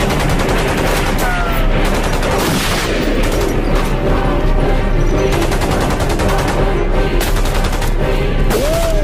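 Dense, continuous gunfire and explosions from a war action film, loud throughout with rapid bursts layered over a constant roar of battle.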